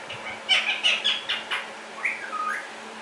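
A talking parrot whistles a series of short, bright chirping notes up close, followed by a couple of sliding whistled calls, with a steady low hum underneath.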